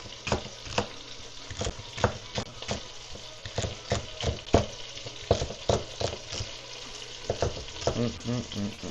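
Mirepoix of celery and carrot frying in a pan, a soft continuous sizzle broken by repeated scraping and tapping strokes of a utensil stirring, fairly close.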